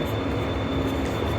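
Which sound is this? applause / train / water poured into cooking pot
train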